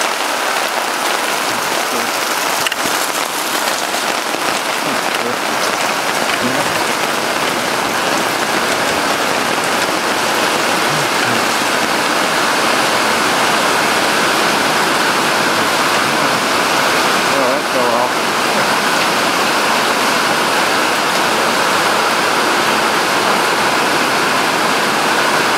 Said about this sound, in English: I'm having too much fun in the rain